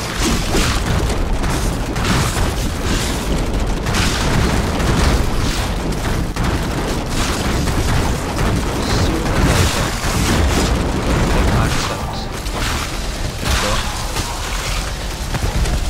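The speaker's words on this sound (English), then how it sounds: "Fire my laser" A giant laser firing in the video game Darksiders Genesis: a loud, sustained roaring blast with rumbling, explosive booms that continues without a break.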